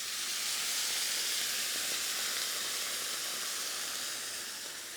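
Pork belly sizzles in a smoking-hot wok, a steady loud broadband hiss that holds evenly and tapers slightly toward the end, with no voices over it.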